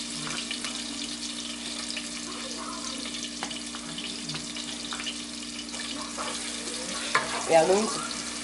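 Tomato paste frying over low heat for Nigerian jollof rice, a soft steady sizzle under a constant hum, with light stirring scrapes and a brief louder clatter near the end.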